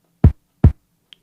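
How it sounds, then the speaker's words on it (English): A short, muffled kick drum sampled from a vinyl record and played on an MPC2000XL hits twice in quick succession, each a dull, low thump, followed by a tiny faint click. "So it's a very short, sort of muffled kick from a vinyl record."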